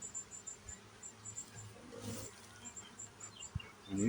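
Honey bees buzz inside a hive during a post-swarm check, a close, pulsing hum with a few louder bursts and handling knocks, and no speech.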